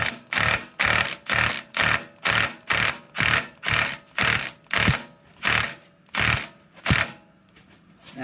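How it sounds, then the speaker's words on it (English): A Milwaukee impact driver in tighten mode runs on an oil drain bolt of a John Deere riding mower, hammering in about a dozen evenly spaced loud bursts, each under a second, with short pauses between. "make sure your Milwaukee impact is into the tighten mode"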